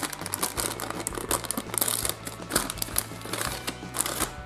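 Continuous crinkling and rustling of a plastic Chinese surprise packet of Super Mario 3D World cards being torn open, with busy crackles throughout over a low steady hum and no talking.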